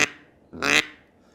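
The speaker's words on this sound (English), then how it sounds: "And your single quacks." A single short quack from a duck call, loud and close, with a faint trailing note before it and quiet afterward.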